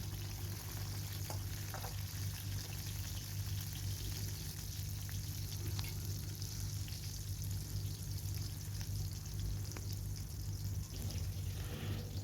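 Sliced onions frying in oil in a pan while green beans are cooked, giving a steady, close, continuous sizzle with a low hum underneath and no voices.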